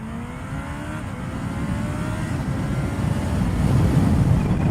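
A supercharged Kawasaki H2 motorcycle accelerates hard, its engine note climbing steadily in pitch and growing louder over several seconds, with rushing wind noise building underneath.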